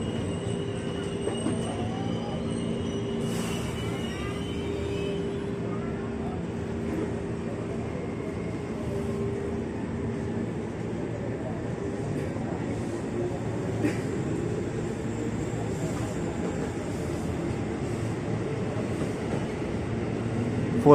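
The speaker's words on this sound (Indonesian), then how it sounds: "KRL kita yang tujuan Bogor ini jalur 3 persiapan berangkat kembali dari stasiun Depok Baru." A crowded 12-car KRL commuter electric train bound for Bogor departs Depok Baru station, its steady rolling rumble and rail noise continuing throughout, with faint wheel squeals and hiss over the platform ambience.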